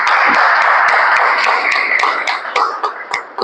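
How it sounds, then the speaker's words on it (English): A meeting audience keeps up a round of applause for Spoken Word members: many hands clapping together in a room, loud and continuous at first, then breaking into sparser, individual claps. "keep the applause going for our members from Spoken Word as well"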